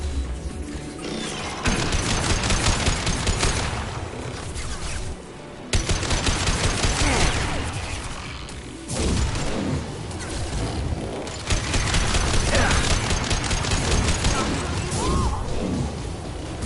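Rapid bursts of gunfire from Mass Effect 2 combat, loud clustered volleys with brief gaps between them, cracking and thudding over the whole span.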